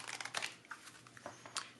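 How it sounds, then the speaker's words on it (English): A deck of tarot cards is shuffled by hand in a few quick crinkly bursts of card riffling and sliding, close and fairly soft, with no talk. "That was an awful shuffle"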